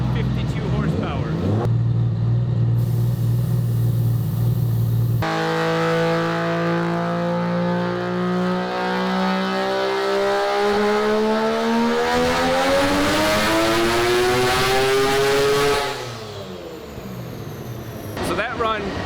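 A three-rotor Mazda RX-7 engine runs hard on a dyno, with a loud, rising rotary wail that climbs steadily for several seconds and then abruptly drops off and fades into quiet.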